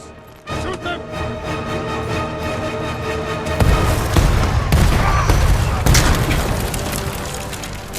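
Heavy booms and crashing blasts mixed with gunfire erupt in a dense, loud battle scene in Ghost of Tsushima, intensifying after a few seconds of steady clatter.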